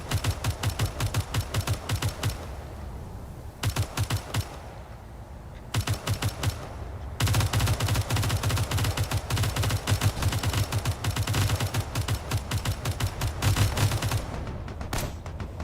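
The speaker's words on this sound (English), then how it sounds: "Some artillery flying through." Artillery fire in a Space Engineers battle, sounding as fast, evenly spaced rattling volleys that stay loud and close, pausing briefly twice, with no voices.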